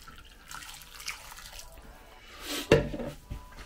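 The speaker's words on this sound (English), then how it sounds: "And then I want to put half a pint of boiling water straight out the kettle." Boiling water poured straight from a kettle into a bowl to make jelly, a faint brief trickle and splash with a sharper splash near the end, close by in a quiet kitchen.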